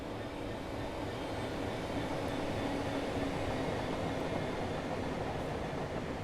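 A Class 66 diesel freight locomotive rolls past in Train Sim World 3, a steady, loud rumble of wheels and engine that holds evenly throughout with no speech.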